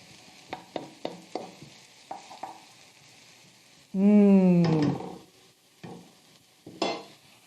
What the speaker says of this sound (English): Let them saute a minute or two just to soften a bit.